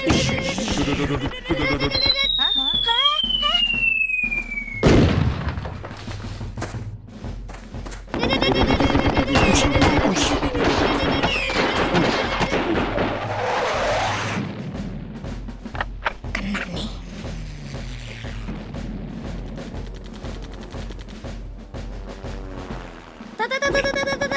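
Cartoon war scene with soldiers firing: bursts of gunfire and booming explosions come in loud waves over a dense animated soundtrack, with whistling streaks and shouting voices throughout.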